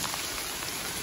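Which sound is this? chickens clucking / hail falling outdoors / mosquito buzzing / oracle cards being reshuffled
hail falling outdoors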